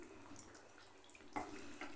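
Water poured from a blender jar into a pan of chicken cooking for a Delhi-style chicken changezi, a short splashing pour that swells in the second half, close and fairly quiet, with no talk.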